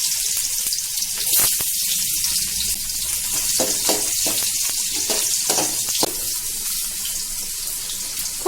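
Garlic sizzles in hot oil in a pan alongside crushed fennel seeds. The crackling frying noise is loud and steady, with scattered pops and spits throughout.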